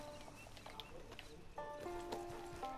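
Horse hooves clip-clop on the ground in Red Dead Redemption 2 Online, a quiet steady patter under game music and dialogue, with voices talking throughout.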